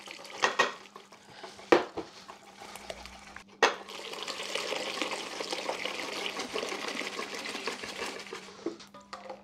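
A spoon scraping the inside of a pot to gather vanilla and leftover milk for a prune far batter, with metallic clinks and knocks followed by a sustained wet scraping and stirring.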